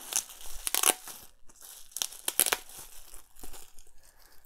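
A plastic anti-static bag holding a mechanical keyboard PCB is handled, giving irregular bursts of crisp crinkling and rustling at close range, with quiet gaps between.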